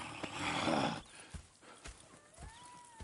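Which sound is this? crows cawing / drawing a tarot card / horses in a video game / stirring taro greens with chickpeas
horses in a video game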